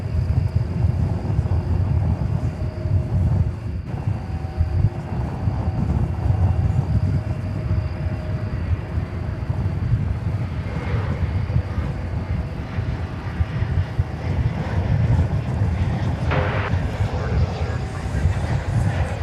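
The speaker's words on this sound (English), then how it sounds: "it appears to be on a trajectory to go across the bridge over to the east side for takeoff to Cincinnati" Airliner taxiing at DFW Airport toward the east side for takeoff, a steady distant jet engine rumble and whine that holds throughout under wind noise.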